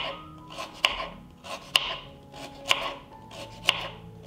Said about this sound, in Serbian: iseckat ću na tanke kolutiće pola kilograma šargarepe